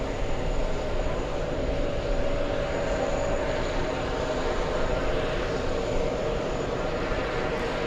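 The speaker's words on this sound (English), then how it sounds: "JetBlue 818 flying to Boston" A JetBlue airliner, flight 818 bound for Boston, roars steadily at JFK, a broad continuous jet noise that stays loud and even throughout.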